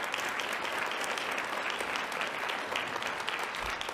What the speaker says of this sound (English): And so let's give her a round of applause.